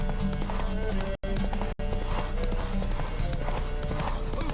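Steady clip-clop of a horse galloping in the video game The Witcher 3: Wild Hunt, rhythmic hoofbeats continuing throughout with music in the background and a couple of brief dropouts.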